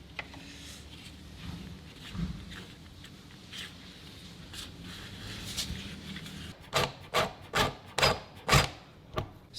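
A small blade flicks the rubber flap of a door seal through to the other side, producing a series of sharp, close flicks and taps that grow louder toward the end after quieter rubbing.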